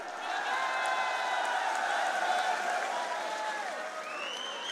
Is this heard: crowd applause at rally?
yes